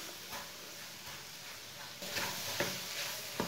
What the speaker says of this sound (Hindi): सूजी को थोड़ा सा भून लेंगे इधर ही।